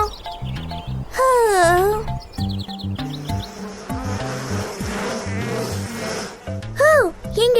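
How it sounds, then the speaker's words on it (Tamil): Cartoon bees buzz in loud, wavering drones, mixed with bird-like chirps and playful sound effects. "இங்க எவ்ளோ தேனீ இருக்கு."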